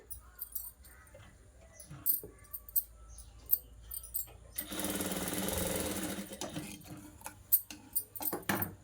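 Sewing machine stitching along the shoulder of a blouse, short clicking bursts and ticks, then a sustained whirring run of stitching lasting about a second and a half, followed by more scattered clicks.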